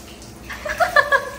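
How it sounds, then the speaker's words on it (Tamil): Water is poured from a cup over a child during a bath, giving a brief splash and trickle that rises midway and fades, with faint voices in the background. "லாஸ்ட் ஒரு கப் மட்டும் ஊற்றிக்கலாம்"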